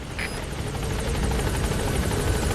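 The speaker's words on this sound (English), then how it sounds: "That's one way of calling the helicopters" A helicopter arrives in the video game Metal Gear Solid 5, its rotor thudding steadily and growing slightly louder across the clip, with no talking.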